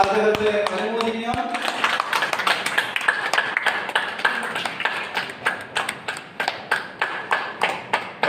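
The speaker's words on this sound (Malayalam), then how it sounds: "ഒന്ന് കൈയടിച്ച് നമുക്ക് അദ്ദേഹത്തെ അനുമോദിക്കാം." An audience claps at a Victory Day cup presentation, a brisk, close run of hand claps that settles into a steady rhythmic beat, with talk and a few bright metallic pings near the start.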